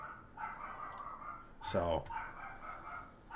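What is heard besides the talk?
dog barking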